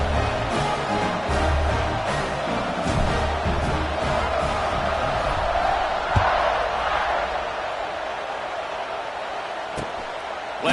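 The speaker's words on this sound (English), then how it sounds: "this crowd is feeling themselves after that last drive." Football stadium crowd cheers as the kickoff unit takes the field after a touchdown, a loud, steady roar of massed voices that fills the whole stretch with occasional swells and shouts.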